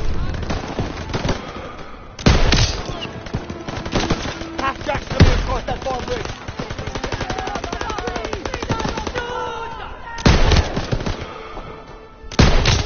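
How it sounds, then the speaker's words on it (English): Heavy World War II-era combat in Call of Duty: WWII: near-constant machine-gun fire broken by several loud, booming blasts like grenade explosions, with some voices mixed in. "Grenade out!"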